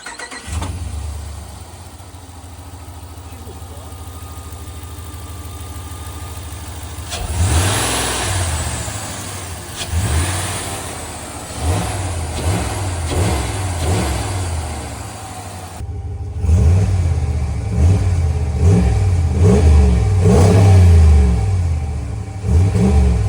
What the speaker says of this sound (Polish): Po prostu silnik V8 z taką pojemnością, to jest coś pięknego.